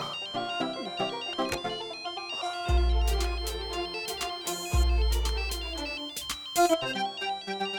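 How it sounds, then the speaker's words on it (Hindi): Mobile phone ringtone for an incoming call at home, a bright melodic tune playing loudly and repeating with deep buzzing pulses underneath, no talk. "महेश डोंगरे का फोन आ रहा है।"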